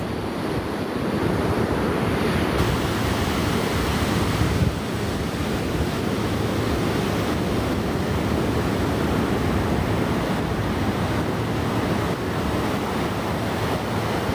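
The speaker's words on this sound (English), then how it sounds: "But definitely can hear the waves." Ocean surf breaks continuously along Mission Beach in San Diego on a morning walk, a loud, steady roar of waves with heavy wind buffeting the microphone and no talking.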